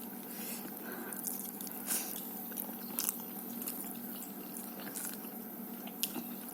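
Someone eating rice at lunch: soft, wet chewing and squishing close to the mic, with small irregular bites and clicks over a quiet background.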